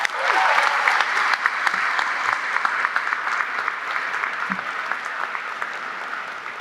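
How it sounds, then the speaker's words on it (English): A large crowd at Salem High School's indoor graduation ceremony breaks into sustained applause, a dense, loud roar of clapping that holds steady and tapers slightly toward the end. "Let's give them a big round of applause."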